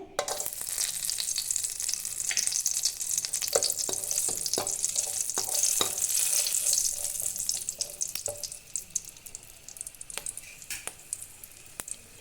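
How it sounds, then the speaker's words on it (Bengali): Garam masala fries in a pan of hot oil for vegetable rice, giving a loud, close crackling sizzle with sharp stirring clicks and scrapes that thin out toward the end. "এখানে আমি গরম মশলাটা দিয়ে দিচ্ছি প্রথমে"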